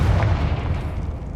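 A Confringo fire-blast spell from Hogwarts Legacy, a loud booming burst with a low rumble that quickly fades.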